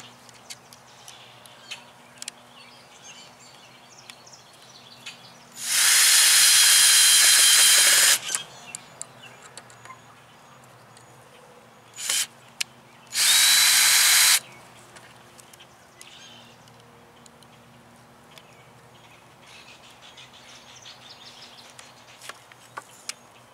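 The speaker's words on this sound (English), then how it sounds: "I'm drilling into the board that goes across" A power drill whirs loudly in two short bursts, the first about two seconds long, drilling into a pallet-wood board, with quiet handling noises in between.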